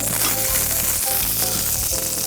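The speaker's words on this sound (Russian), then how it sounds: "Итак, наш ростбиф обжарился со всех сторон." Roast beef sizzles steadily in a hot pan after being browned on all sides, a loud continuous crackle and spit of fat with no talking.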